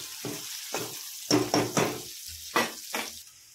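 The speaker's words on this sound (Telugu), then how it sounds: "కొంచెం వేగినాక కొంచెం ఎర్రగడ్డలు, వేసి కొంచెం లైట్గా కలుపుకోవాలి." Chopped onions sizzling in hot oil for bachelor-style sambar, stirred in a pan with several scraping bursts of spoon against metal over a steady frying hiss, close and fairly loud, no talking.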